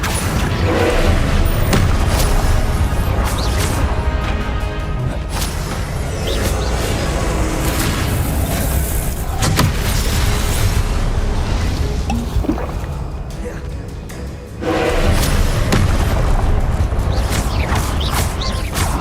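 An Incendio fire spell cast in a Harry Potter video game, heard as a loud, dense roar of whooshing and booming with creaking textures, sustained throughout, dipping briefly before a fresh surge.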